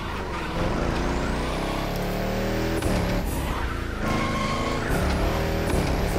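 Volkswagen Touareg engine in the racing game The Crew Motorfest, an Audi-shared powerplant, roaring continuously with rising and falling gear pitches and tire squeal, loud and close throughout.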